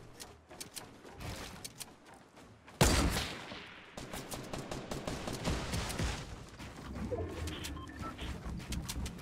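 Rapid bursts of gunfire in Fortnite Battle Royale, sharp cracks in quick runs, with one loud heavy blast partway through followed by continued dense shooting up close.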